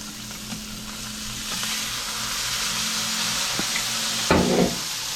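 A 24-inch blackened redfish fillet on the half shell sizzles in a hot pan, a steady close frying hiss with a low hum beneath and a sharp clatter near the end.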